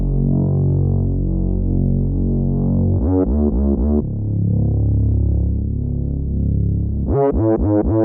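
A simple deep bass line from a one-shot kit holds long, booming low notes, broken twice by quick stuttering pitch slides. It sits loud and close, alone, with no talking.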